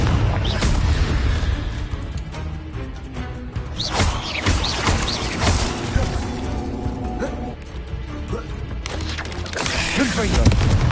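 Spell blasts in Hogwarts Legacy, a dense, loud battle bed of booms, crashes and crackling impacts rolling continuously, with a voice speaking over the din.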